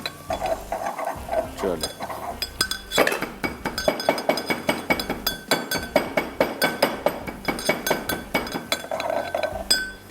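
Fennel seeds being crushed by pounding in a kitchen, giving a steady run of close, sharp clinking knocks in a quick rhythm that continues throughout.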